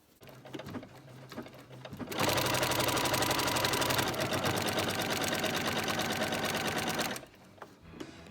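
A sewing machine stitches a log cabin heart quilt block, running in one loud, steady whirring burst for about five seconds after a few quiet handling clicks.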